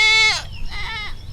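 A goat caught on its tether rope, which has tangled around its leg on a rural provincial farm, lets out a loud, close bleat, then a second, shakier bleat shortly after.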